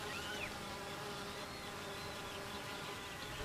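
Honey bees buzz in flight, a continuous, even drone of many wings, fairly faint and steady, with the pitch of individual bees sliding up and down as they pass.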